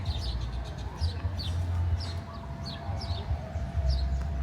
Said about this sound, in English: You guys see these chickens? A rooster and 3 hens